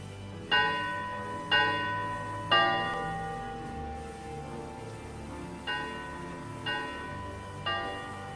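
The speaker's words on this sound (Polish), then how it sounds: "That must be the 3 gongs" Three resonant gong strikes ring out in the adventure game Moebius: Empire Rising, each with a long decaying tail, followed by a second set of three softer strikes, evenly spaced and heard alone.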